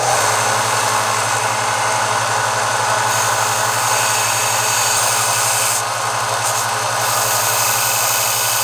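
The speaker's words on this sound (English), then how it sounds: "What if I use the belt sander?" A belt sander runs steadily on a wooden guitar neck, a loud continuous motor drone with a rasping abrasive hiss held at an even level throughout, no voices.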